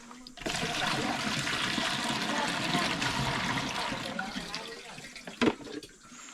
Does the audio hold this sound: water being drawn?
yes